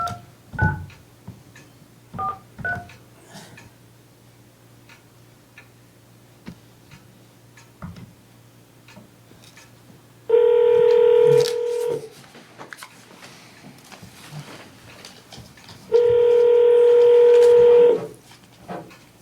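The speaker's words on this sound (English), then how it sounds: "Did you dial 9 to get out?" Telephone dialing tones from a cordless phone at a town selectboard meeting: a few short keypad beeps, then two long steady tones well apart, heard over quiet room ambience and faint ticking.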